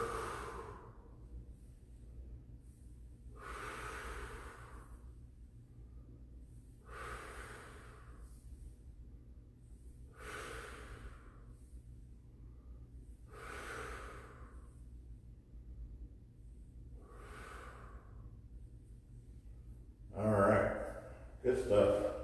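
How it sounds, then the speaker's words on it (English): Slow, loud exhaled breaths repeat at steady intervals of about three seconds during a stretching class, close to the microphone, with brief talk near the end. "Exhaling."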